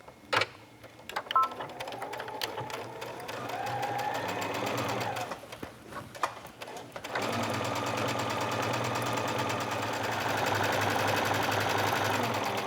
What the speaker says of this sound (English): And we'll start stitching.